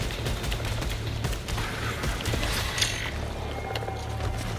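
Dense, rapid bursts of weapon fire from the sci-fi shooter Returnal, a continuous crackling fusillade with sharp transients over a rumbling low end, loud and steady with no talking.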